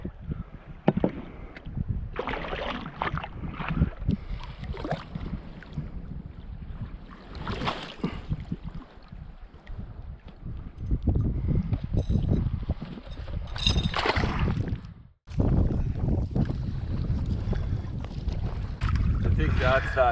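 A canoe is paddled across a lake in northern Manitoba, with irregular splashes and knocks of the paddle, some wind buffeting the microphone, and occasional voices.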